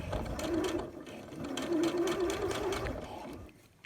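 Sewing machine stitching a rolled hem along fabric for an infinity scarf, a steady close whirring run that eases briefly near the middle and stops just before the end.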